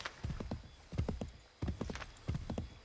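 Horse hooves clip-clop in a steady rhythm in the video game Assassin's Creed 3 on Xbox 360, with a whinny mixed in, all moderately close and heard alone.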